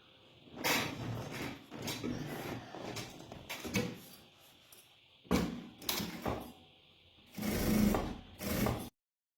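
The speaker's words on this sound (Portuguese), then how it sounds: "eu vou fazer uma costura na beiradinha só pra prender esse barrado aqui, esse babado" A sewing machine stitches along the edge of a fabric ruffle on a kitchen cloth, running in several bursts of whirring and rattling, with short pauses between runs and a final stop, close up and alone.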